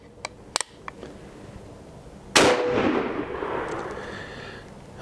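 Single loud, close gunshot from a Remington revolving carbine Uberti replica rifle at an outdoor range, a sharp blast followed by a long rolling echo, preceded by a few faint clicks.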